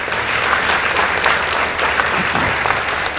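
An audience at a high school debate competition breaks into loud, dense applause for a school team, a continuous close roar of clapping throughout.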